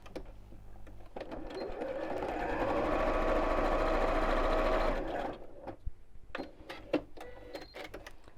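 Close, loud sewing machine stitching straight across the end of a fabric scallop-top gift bag, a steady whirring run of about four seconds that swells then stops, followed by a few sharp handling clicks.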